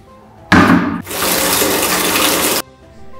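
Water gushes from a tap into a bucket for soaking laundry, a loud, steady rushing pour that briefly changes tone before cutting off sharply.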